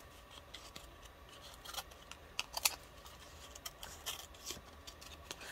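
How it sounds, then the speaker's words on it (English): Scissors trim paper collage strips with quiet, irregular snips and crisp cuts over a low background hum, and no one speaks. "So just take your scissors and trim that up."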